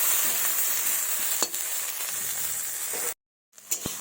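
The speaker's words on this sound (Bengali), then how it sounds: "এগুলোকে একটু লাল লাল করে ভেজে নেব হালকা লাল করে" Okra frying in a pan with salt and turmeric, a steady close sizzle and crackle with a few stirring clicks, briefly cutting to silence near the end before resuming.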